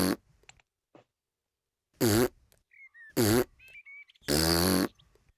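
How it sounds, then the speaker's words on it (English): Three cartoon farts sound out, loud and close, the last one longer, with short squeaky bursts and faint sounds between them and no talking. "Is he farting?"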